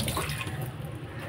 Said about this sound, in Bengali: দাঁড়াও একটু ধুয়ে নিই হাতটাকে